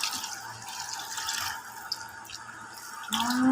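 Water pours into a cooking pot for pork rib caldereta, a steady close splashing and trickling that rises in pitch near the end as the pot fills.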